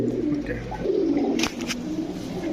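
Sadda Royal Teddy pigeons coo softly and repeatedly at close range amid a low background hum, with a brief clatter of wings or movement partway through.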